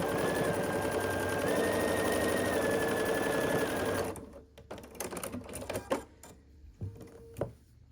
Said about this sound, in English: And then we just need to sew the final seam.